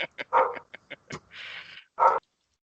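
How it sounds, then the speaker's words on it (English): A puppy barks in a string of short, sharp yaps and yips, with a brief whimper in between, close and fairly loud in a quiet room. "whose dog is this?"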